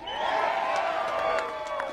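A large political rally crowd in Red Deer, Alberta, cheers and whoops in a continuous loud roar with scattered shouts and whistles, no single voice standing out.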